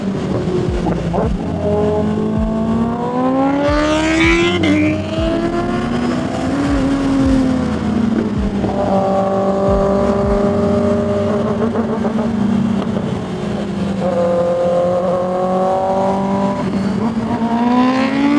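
Motorcycle engine fitted with an SC Project exhaust, revving loudly and repeatedly, the pitch climbing and falling in long sweeps, close and dominant throughout.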